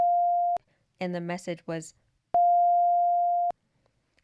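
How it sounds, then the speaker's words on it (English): A steady high-pitched censor bleep tone sounds twice, a short burst then a longer one, loud and pure, with a voice speaking briefly between them. "the bleep was more like a high-pitched sound ringing in my ears"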